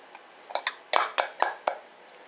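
Homemade breadcrumbs being placed onto a pan lined with non-stick aluminum foil, heard as a series of close, crisp taps and crinkles, about seven in quick, uneven succession.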